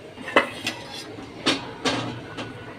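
Metal utensil clinks and taps ring out against a pan as onion and chili go in for a bitter gourd fry, several sharp knocks spaced irregularly over quiet background.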